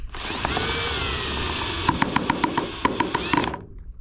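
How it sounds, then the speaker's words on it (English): A power drill bores into a Ford F600 truck, first as a steady, close, high whine, then as a string of quick pulsed bursts before stopping. "and then drill it in"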